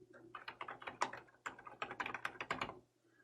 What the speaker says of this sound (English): so I can type in a headline.